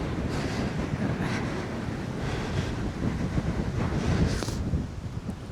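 Strong, gusty wind roars at Lochindorb loch, buffeting the microphone continuously with rushing, surf-like noise that swells louder toward the end.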